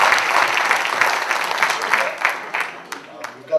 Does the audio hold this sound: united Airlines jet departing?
no